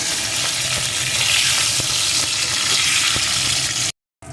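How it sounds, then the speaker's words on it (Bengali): Potato pieces with a little salt fry in a pan for a vegetarian cabbage curry, giving a dense, continuous hiss and crackle with faint utensil taps. The sound cuts out abruptly just before the end. "এখন আলুটা সুন্দর করে ভেজে নেব"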